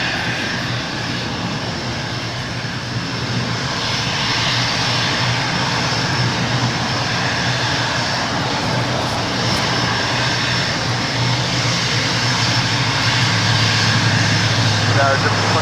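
A Gulfstream G550 business jet taxis at LAX, its engines giving a steady whining roar that stays loud and even, while a voice talks over it.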